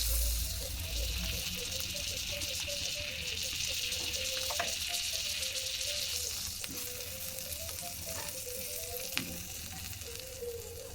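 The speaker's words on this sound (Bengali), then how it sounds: "গরম হয়ে গেলে ব্রেড পাউটাকে পুরো চারদিকে বাটার লাগিয়ে নিয়ে একটু ফ্রাই করে নেব।" Pav bread buns frying in butter on a hot pan for dabeli street food, a steady close sizzle with faint bubbling and a few light clicks, continuous and without talk.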